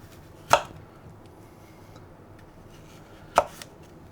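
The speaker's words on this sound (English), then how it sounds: "we're going to take a Granny Smith apple. We're just going to quarter this." Two sharp knife chops through a Granny Smith apple on a cutting board, a few seconds apart, close and distinct over a quiet room.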